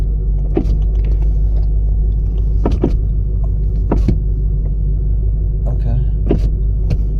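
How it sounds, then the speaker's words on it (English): Power window on a 2006 Chevrolet Corvette with a 6.0L engine, a no-start car with smoke from the driver's door, whirring down inside the cabin over a steady low rumble, with a few clicks and brief voices nearby. "It puts the window down, but it don't open the door."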